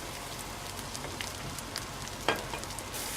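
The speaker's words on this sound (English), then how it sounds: "Stir the rice." Rice frying in fat in a pan gives a steady, even sizzle throughout, with faint scraping from stirring and one brief sharp tick partway through.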